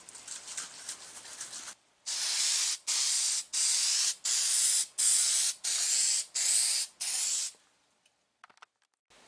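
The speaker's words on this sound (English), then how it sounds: "I'm gonna spray some sand-free adhesion promoter just on the plastic pieces" An aerosol can of adhesion promoter sprays onto plastic car dashboard pieces in a series of even hissing bursts, about seven in a row with short pauses, close by, followed by faint clicks.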